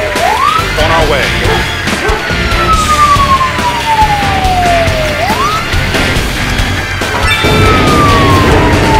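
Emergency vehicle sirens from the Emergency HQ game wail in long rising and falling sweeps, loud and continuous, with several sirens overlapping and brief game voice lines under them.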